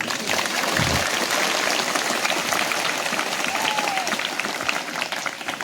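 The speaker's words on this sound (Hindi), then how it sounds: "अभी सभी को ताली बजाएंगे" Applause from a church congregation at a first holy communion service in Gumla, broad and continuous clapping that fills the whole stretch at an even loudness, with crowd murmur beneath it.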